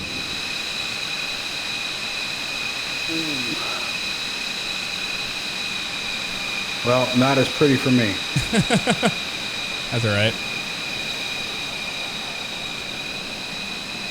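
A steady, loud engine drone from an F-22 Raptor jet landing in Microsoft Flight Simulator runs unbroken throughout, with a few short bursts of people talking over it.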